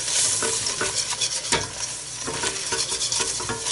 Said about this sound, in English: whisk it